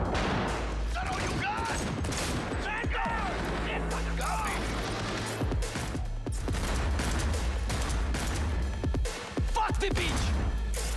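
Gunfire in Cyberpunk 2077 comes as rapid, dense bursts of shots and impacts in combat, with several voices shouting and talking over the shooting throughout.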